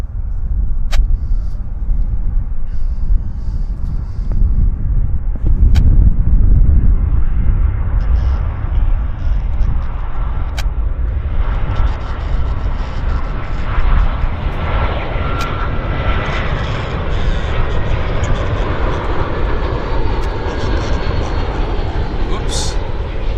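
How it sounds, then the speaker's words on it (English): A fixed-wing airliner on approach to Vancouver Airport gives a steady, loud broadband jet rumble that slowly builds and brightens as it draws nearer, with a few sharp clicks over the noise. "We've got an aircraft on approach right now."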